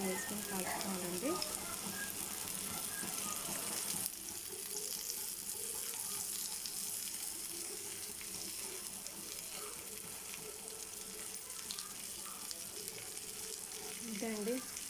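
Andhra-style fish pieces coated with coriander powder, cumin powder and a little oil frying in a pan, a steady soft sizzle and crackle running throughout at moderate distance, with brief clinks near the start and end.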